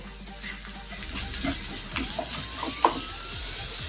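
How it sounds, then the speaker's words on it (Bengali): Ground spices, red chilli, cumin and coriander powder, stirred in a frying pan, giving a steady low sizzle with a few soft scraping clinks of the spoon, fairly quiet and close, with no voices. "সব মশলা নেড়েচেড়ে মিশিয়ে নেব।"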